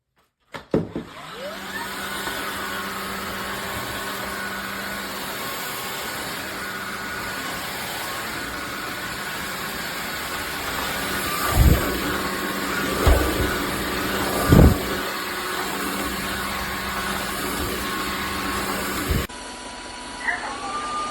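A Dreame H12S cordless wet and dry vacuum mop runs in auto mode with a steady, loud motor whine and a constant hum that holds the whole time. A few brief surges rise near the end, then the pitch drops as the machine changes.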